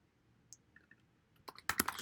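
Typing on a computer keyboard: a few scattered light clicks at first, then a quick cluster of louder, crisp keystrokes near the end, close-up and fairly quiet, with no one speaking.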